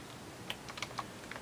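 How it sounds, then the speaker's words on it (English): Computer keyboard keys are tapped in a quick, uneven run of light clicks, close and fairly quiet, with no voices. "And then you can just go ahead and start typing."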